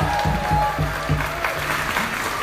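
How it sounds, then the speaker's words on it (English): Audience applause at a live show at a steampunk convention, a steady wash of clapping from a crowd that holds for the whole stretch, with a sustained musical tone underneath. "how about a wonderful round of applause"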